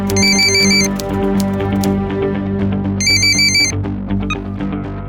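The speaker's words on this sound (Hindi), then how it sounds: "एक फोन आया" A telephone rings in two electronic trilling bursts separated by a pause, loud and close, over a steady background hum.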